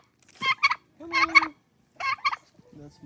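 A farm turkey gobbles in three loud, rattling bursts close by, separated by short pauses, with softer clucking farm birds at the end and no talk.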